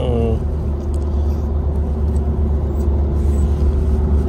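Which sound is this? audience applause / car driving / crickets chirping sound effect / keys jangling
car driving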